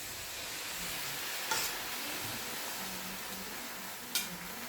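Pechay (bok choy) sizzles and fries in a pan over a weak burner, a steady hiss with a couple of brief stirring clinks.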